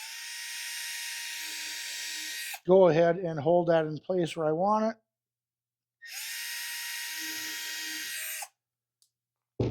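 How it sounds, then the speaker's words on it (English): A Milwaukee drill with a 3/32 bit bores holes for a kayak track, two loud whining bursts of a few seconds each, separated by close-up speech. "I've got a Milwaukee drill with a 3/32 drill bit."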